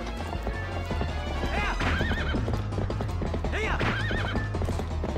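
Horses in Zelda Twilight Princess neigh twice in loud, shaky whinnies amid steady clip-clopping hooves, with background game music running underneath.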